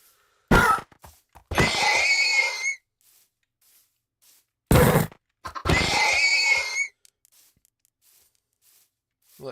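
Horse neighs and snorts in the Baldur's Gate video game, two separate calls each led by a sharp burst and followed by a whinny, with silence between them.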